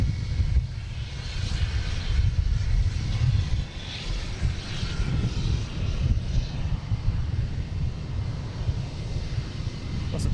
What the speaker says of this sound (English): a Delta landing on 4 left